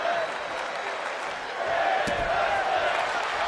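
A capacity wrestling arena crowd at a women's pro wrestling match cheers and roars continuously, a dense wash of noise with a brief slam-like thud midway.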